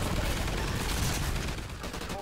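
A mounted turret machine gun fires in a sustained, dense roar of rapid shots during co-op Extinction mode in Call of Duty Ghosts, with voices faintly mixed under the gunfire.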